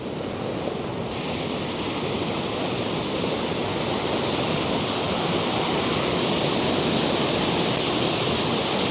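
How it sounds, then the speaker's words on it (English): A waterfall at Glen Etive roars continuously and close, a dense, steady rush of water with no voices. "I've got a waterfall here, and the water coming all the way down there"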